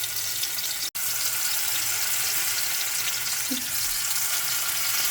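Spiced raw banana slices frying in hot oil, giving a steady, even hiss and sizzle that fills the whole stretch, with one brief dropout partway through.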